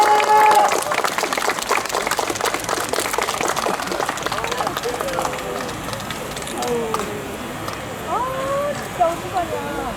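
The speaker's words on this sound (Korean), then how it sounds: "박수 한번 칩시다." Crowd applauding at an outdoor political rally during a head-shaving protest, loud dense clapping at first that thins out, with cheering voices and talk mixed in.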